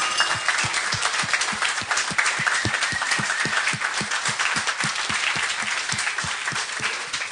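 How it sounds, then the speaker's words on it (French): Steady, loud audience applause follows a lightning presentation at an event, with many hands clapping rapidly and evenly throughout and no voices breaking through. "je pense que c'est la première fois que ça vaut une autre bonne main d'applaudissement."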